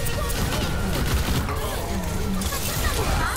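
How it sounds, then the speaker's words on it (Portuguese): Bombardment barrage in a video game, dense rapid gunfire and blasts rolling continuously at close range, with game effects layered over it. "Bombardeio pronto."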